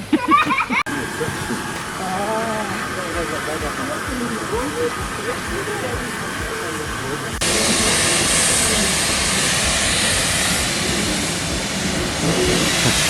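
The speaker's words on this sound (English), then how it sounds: "with one train making its departure" The Flying Scotsman steam train pulls away with rhythmic chuffing, then a loud continuous hiss of steam takes over, close and steady.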